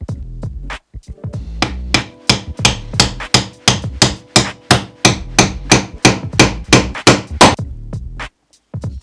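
Wooden pegs are tapped into a wooden helmet rack with around twenty sharp, close hammer knocks in a steady, brisk rhythm, broken by one short pause, with no voices.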